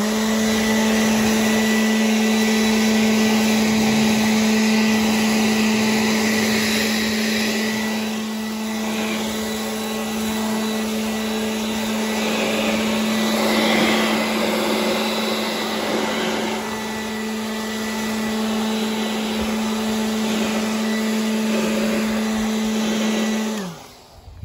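A 40V cordless leaf blower runs continuously at close range, a loud steady high-pitched whine with a strong constant tone, slightly varying in intensity before spinning down at the end.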